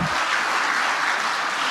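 Audience applause at a PDI Perjuangan party congress: a dense, steady wash of many hands clapping at once, loud and close, with no voices rising above it.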